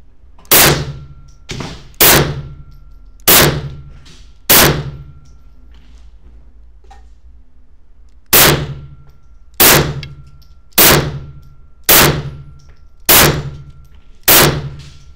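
Beretta 81 pistol firing 7.65 mm (.32 ACP) rounds, ten loud sharp shots with short ringing tails, four in quick succession, a pause, then six more at an even pace.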